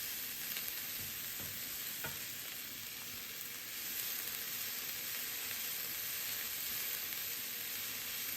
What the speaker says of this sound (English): I'm just going to stir fry that around again for maybe half a minute